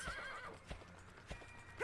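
A horse in the PS2 game Dragon Quest 8 clops its hooves in a few spaced steps, then lets out a short whinny near the end, all fairly quiet against a soft game backdrop.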